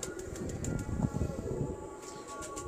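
Firozpuri pigeons coo in a steady low murmur, a close, continuous rumble of overlapping calls with faint mechanical background hum and occasional brighter clicks.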